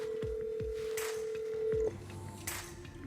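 A telephone keypad dials out before a call, with a steady tone and a quick series of distinct DTMF beeps in a quiet room, then a brief pause and one more beep.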